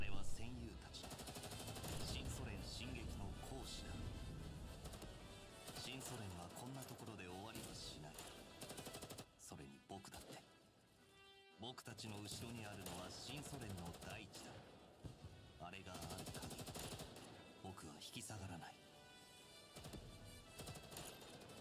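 Dense bursts of gunfire crackle continuously over loud music and ambient game noise in Girls' Frontline 2: Exilium, with a brief drop-out near the middle before the barrage resumes.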